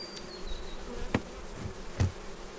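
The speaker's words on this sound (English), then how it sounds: "Now we got a bit of bees in here" Bees buzzing indoors during honey extraction, a faint steady insect drone with a few brief knocks and thumps, no voices.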